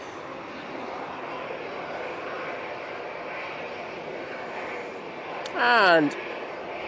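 A Ryanair airliner passes at an airport, its steady broad engine roar filling the whole clip at moderate distance, with a brief louder burst near the end; a voice speaks briefly.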